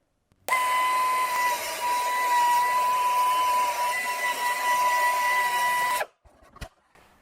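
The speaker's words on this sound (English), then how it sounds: "I'm going to start with a small belt sander, which is excellent for getting into concave areas like this." A small belt sander grinds steel welds smooth on a metal rolling stool, working into concave areas. It makes a steady, loud, whirring abrasive drone with a thin whine that runs for about five seconds, then cuts off, leaving a few faint clunks.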